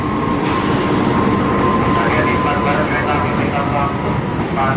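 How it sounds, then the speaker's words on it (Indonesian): Jakarta–Surabaya Gubeng train passing through Jatinegara station on track 4, a loud continuous rumble and rolling rattle of wheels on rails held steady throughout, with a brief higher tone sounding near the start. "Kereta api Jakarta tujuan Surabaya Gubeng melintas jalur 4"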